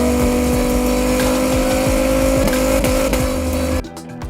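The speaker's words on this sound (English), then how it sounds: "It's a rear-wheel drive monster with a screaming V10 engine under the hood" A Dodge Viper's V10 engine snarls loud and close in a sustained rev with shifting pitch, then cuts off abruptly near the end.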